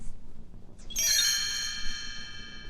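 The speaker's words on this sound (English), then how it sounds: "You will know it is time to turn the page when you hear the chimes ring like this." After a short quiet, bright chimes ring out together, their clear tones shimmering and slowly fading away.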